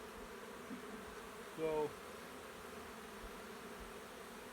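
Honey bees buzz faintly around a hive box during a queen and mating-nuc inspection, a low hum with one louder buzzing pass as a bee flies close; a voice speaks a single brief word.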